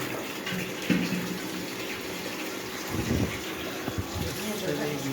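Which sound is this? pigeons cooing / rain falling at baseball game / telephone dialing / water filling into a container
water filling into a container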